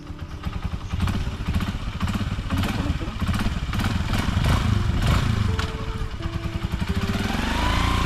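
A motorcycle is test driven, its engine revving and puttering loudly up close in uneven surges with clattering mechanical noise, building toward the end as it pulls away.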